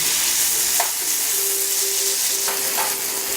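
Garlic and grated tomatoes fry in a pan with a steady, close sizzle, broken by a few soft scrapes of stirring, and no one speaks.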